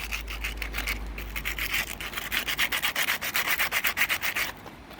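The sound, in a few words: sanding corroded contacts on a CPU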